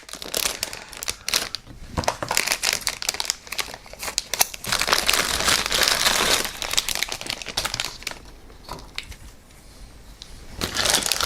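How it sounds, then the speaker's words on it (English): Crinkly plastic bag holding droid model kit parts rustles and crackles almost continuously for several seconds, fairly loud and close, with brief dips in intensity and no speech. "This bag is that really crinkly plastic"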